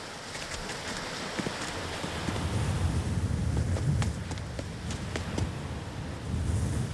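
Gusty wind buffets the microphone by the sea, with a rumbling surf-like wash underneath and no voices, in a cartoon.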